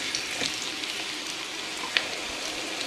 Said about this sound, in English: Once the oil is slightly warm, we're gonna add in our onions that are sliced into rounds.